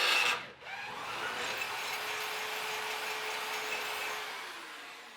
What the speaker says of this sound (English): To install the support bolt, you'll have to do a bit of drilling.